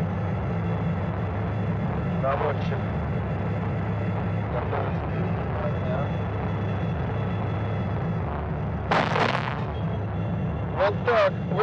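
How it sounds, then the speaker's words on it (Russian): A T-80 tank cannon fires high-explosive fragmentation rounds outdoors, with deep booms and rumbling bursts standing out against a constant low background roar, one near the nine-second mark and more toward the end. "вот так выглядит выстрел из танка Т-80"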